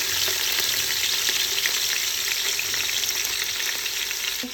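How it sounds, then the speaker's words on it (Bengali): Onion drops into hot oil as tempering for a roast, producing a loud, continuous hiss and crackle that holds steady and close throughout. "এখন রোস্টের জন্য পেঁয়াজটা দিয়ে দিচ্ছে ফোড়নে।"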